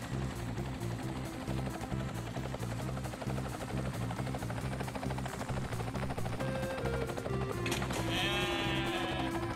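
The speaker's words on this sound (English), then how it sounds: "I've got the helicopter all fueled up and ready to go." A helicopter drones continuously in Ty the Tasmanian Tiger 2: Bush Rescue, with sheep bleating over the steady rotor buzz and game music, growing busier toward the end.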